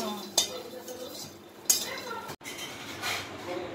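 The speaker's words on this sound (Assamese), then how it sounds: "জিকা আৰু বিলাহীখিনি এইখিনিলৈকে ভাজি লৈছে বয়ে এনেকুৱা ধৰণে" A spoon scrapes and clinks against a pan as ridge gourd and tomatoes are stir-fried for a dry chutney, with sharp metallic knocks among softer stirring and a faint sizzle.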